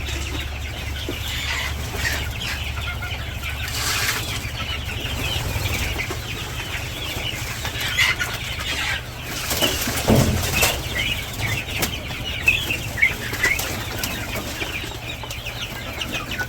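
Quail kept in a pen at a village home give bursts of soft clucking and brief flapping of wings over a steady low outdoor hum, fairly close, with no talking.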